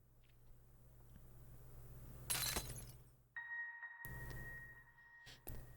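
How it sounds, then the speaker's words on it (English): A mirror shatters in the video game Pocket Mirror, a sudden bright burst of breaking glass over a quiet low hum, followed by a sustained ringing tone and a few softer cracks. "The mirror actually shatters a little bit there."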